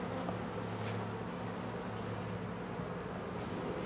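Honey bees buzzing around an open hive during an inspection, a continuous faint hum close by, with no talking.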